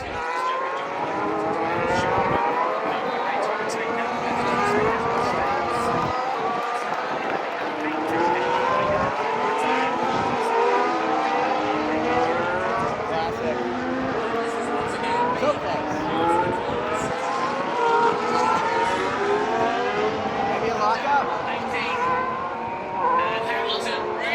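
Formula 1 cars scream past on the final lap of the United States Grand Prix, high engine whines repeatedly sweeping up and down as cars pass, with a crowd and voices audible throughout.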